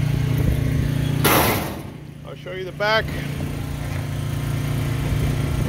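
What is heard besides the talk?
engine of a 1979 Gilson concrete mixer running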